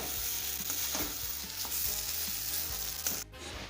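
Sautéed masala with coriander leaves sizzles in a pan for a stuffed papad jhaal, a continuous close frying hiss broken by the soft scrapes and taps of stirring, with no talk.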